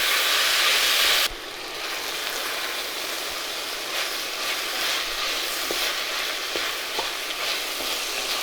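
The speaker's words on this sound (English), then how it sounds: "we're gonna cook these onions down for quite a while." Chopped onions sizzle steadily in a hot pan as they cook down for a tomato and chickpea curry, a loud, even frying hiss that drops slightly after the first second and carries occasional soft stirring clicks.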